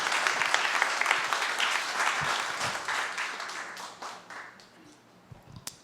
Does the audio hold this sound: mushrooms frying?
no